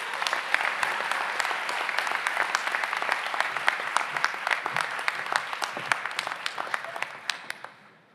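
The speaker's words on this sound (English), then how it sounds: "give yourself a round of applause" Enthusiastic audience applause at a university stole-donning ceremony, a dense steady patter of many hands clapping with a few sharper individual claps, fading out at the end.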